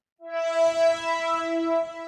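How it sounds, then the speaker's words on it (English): JX8 synth preset from the Flex plugin in FL Studio, a bright sustained harmonic-rich tone with a clean onset, ringing steadily on its own with slight swells in level and no voices. "There's a sound from Flex called JX8 that I mentioned earlier,"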